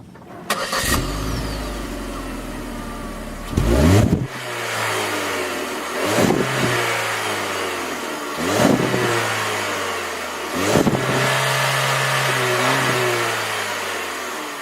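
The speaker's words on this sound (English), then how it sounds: "0 to say 30, 35 miles per hour, it zooms, it goes fast." A 2014 Chevy Spark city car with a CVT pulls away repeatedly, engine rising in a strained whine four or five times over the span, each surge fading into a lower drone, loud and close with no talk.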